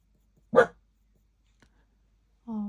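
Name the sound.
dog barking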